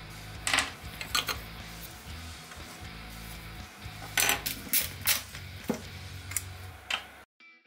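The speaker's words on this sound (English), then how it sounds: "Unscrew two screws holding the housing of the EPB mechanism." Screws being undone on the electric parking brake mechanism housing of an Audi/VW rear brake caliper, a series of sharp metallic clicks and clinks at irregular intervals, close up, with steady workshop noise behind.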